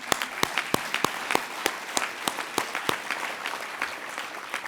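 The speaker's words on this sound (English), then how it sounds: "So just want to give you all a round of applause." Meeting audience at an annual awards presentation gives a round of applause, a dense steady patter of many hands with a few loud close claps standing out.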